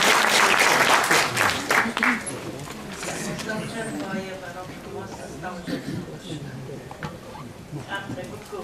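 Audience applause at a Romanian book tribute event in a hall, a dense burst of clapping loudest at the start, then fading under a speaking voice for the rest.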